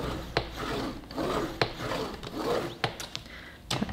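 Paper is scored along a fold line on a punch board for a milk-carton gift box, giving short scraping rubs with sharp clicks and taps scattered through, close and fairly quiet.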